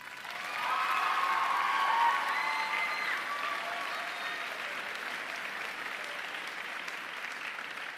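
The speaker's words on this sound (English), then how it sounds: "Another round of applause," Audience members at a Waconia High School bands concert break into applause with some cheering, swelling quickly near the start and then holding as a steady, even clatter of many hands.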